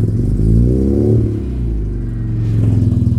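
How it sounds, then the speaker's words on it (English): A Mini fitted with a Works conversion kit exhaust from a JET Motors remastered build fires up loud and close, its engine cranking, revving hard, then settling into a throaty, pulsing idle. "I want you to hear the exhaust. Let me fire it up for you."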